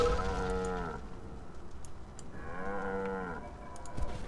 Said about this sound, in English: I freed cows.